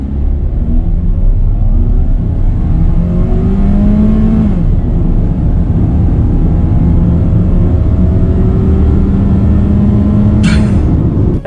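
An MG3 with a 1.5 litre engine and its transmission accelerates hard from rest, the engine droning loud and close, its pitch climbing through several gear changes across a sustained rumbling run.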